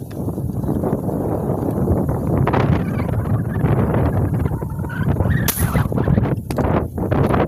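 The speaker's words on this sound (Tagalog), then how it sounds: "lakas na ng hangin." Strong wind buffets the microphone in a continuous loud roar during airgun tilapia fishing, with gusts swelling and a few sharp knocks toward the end.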